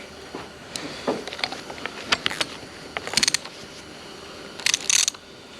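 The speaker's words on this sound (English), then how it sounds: "Let's use the right size socket. Double ratchet it." A socket ratchet tightens a bolt while a highway peg is installed on a motorcycle, giving sharp irregular clicking bursts of metallic ratcheting close by with quiet gaps between.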